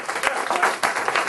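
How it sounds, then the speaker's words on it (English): Audience applause at a talk on Black masculinity and homosexuality: a dense burst of crowd clapping with a few louder swells over about a second, close and steady, with voices mixed in. "Give them a round of applause."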